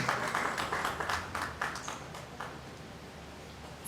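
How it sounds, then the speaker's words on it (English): Audience applause at a customer experience management conference panel session as a panelist is introduced: a burst of moderate clapping that thins out and fades to quiet within a few seconds. "a round of applause"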